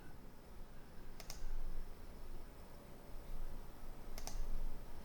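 Typing a search question on a computer keyboard, two short bursts of quick clicks about three seconds apart over a steady background hiss.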